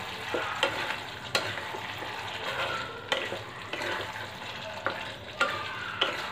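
Fried potatoes and fried pointed gourd are stirred with spices and oil in a pan, giving a continuous soft sizzle broken by periodic scraping clinks of a spatula, steady and close with no talking.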